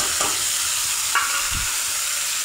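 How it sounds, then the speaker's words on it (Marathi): A raw ground onion-tomato paste going into hot oil with cumin and mustard seeds while making chole masala, giving a soft, even sizzle with faint stirring scrapes, close by and without any voices. "हे कांद्याचं टमाट्याचं वाटण वाटलेलं ते अगोदर घालून घ्यायचं"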